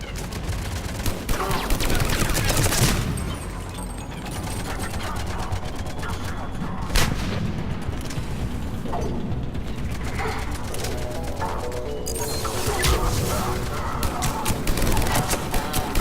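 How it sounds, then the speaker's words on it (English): Battle in Mass Effect 3 with mortar fire: continuous dense barrage of gunfire and booming impacts, loud and sustained, with voices talking faintly over the din. "Commander, we're getting a lot of mortar fire."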